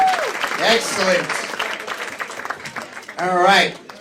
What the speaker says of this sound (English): Come on, give me a hand!